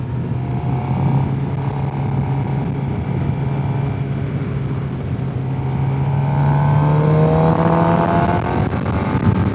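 A Suzuki GSXR750 sport motorcycle on a demo ride drones loudly and continuously, its engine pitch climbing and shifting through the revs as the bike accelerates, with wind rush underneath.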